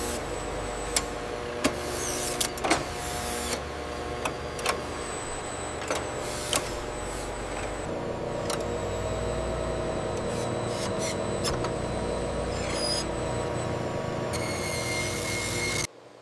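A razor blade sharpening line in a factory runs as a steady mechanical hum and grinding drone, with sharp clicks and clanks in the first half and a denser continuous whir later before it cuts off.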